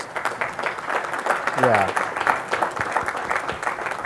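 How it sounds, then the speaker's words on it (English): Modest, polite applause at an annual business meeting of an educational congress, scattered clapping with a voice speaking briefly in the middle. "That was polite applause, almost a golf clap."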